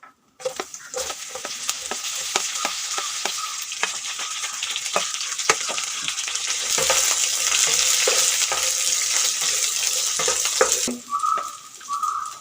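Mustard seeds and chopped broad beans (avarakka) fry in hot oil in a pan for a Kerala stir-fry, a loud steady sizzle peppered with sharp crackling pops that continues for several seconds without speech.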